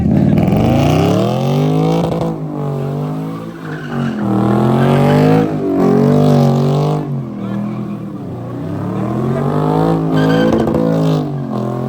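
A car driving on the road after one of its tyres has come off, throwing sparks: a loud, continuous roar with wavering revving and scraping squeal that rises and falls across the whole stretch.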